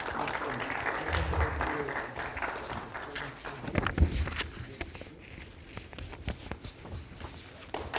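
An academic society conference audience breaks into congratulatory applause for a plaque recipient, a fairly loud clatter of clapping that thins and fades toward the end, with some shuffling and a voice nearby.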